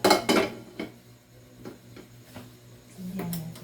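A metal frying pan clanks and scrapes a few times, with sharp knocks near the start and lighter clatter later, close by in a quiet room.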